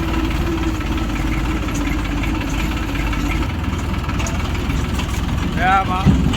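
A tractor engine idles on a muddy, rain-damaged farm road beside a cotton field, a loud, steady low rumble and vibration that runs throughout and stays close to the recorder.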